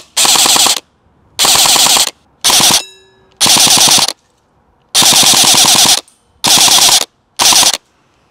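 A Barra 400E full-auto .177 electric air rifle sprays steel BBs in seven rapid bursts of buzzing shots, each lasting around a second and separated by brief pauses, loud and close with no talking.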